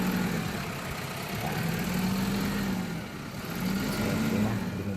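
An Isuzu 4HK1 diesel engine with low power runs at a steady idle, a continuous low rumble with slight swells in level, close by and without speech.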